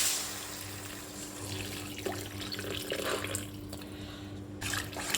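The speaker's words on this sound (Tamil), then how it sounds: "இப்போ இதுதான் அந்த புளி தண்ணி ஊற்றுறேன்." Tamarind water is poured into a cooking pan of sautéed ingredients, a faint, soft trickle and splash of liquid lasting a few seconds.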